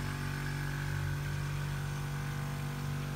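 A car engine, restarted after repeated brake-pedal presses, hums at a steady idle, with a constant low drone and tonal whine that stays even and fairly close throughout, with no talking.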